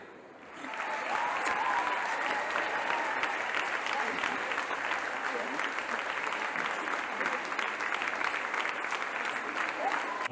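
Audience applause at a student gathering with Kannagi Nagar kabaddi girls and WCC students rises quickly after a quiet start, then holds as a dense, steady wash of many hands clapping, loud and sustained to the end.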